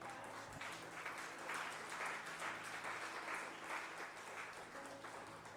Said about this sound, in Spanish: Yo le daría palmas al Señor.